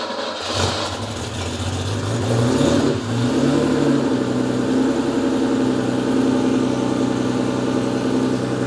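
A Porsche 911 3.2L flat-six cranks briefly, fires and catches, then settles into a steady, loud idle up close, with no voices.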